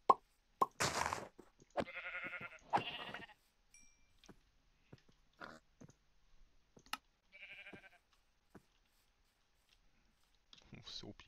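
Sheep in the game Minecraft bleat in several short bursts between clicks and plopping sounds, with brief quiet gaps in between.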